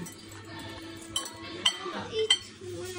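Homemade jelly stirred in a pot, a few light clinks and scrapes of a utensil against the rim, fairly quiet, over faint background murmur.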